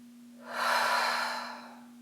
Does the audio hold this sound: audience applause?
no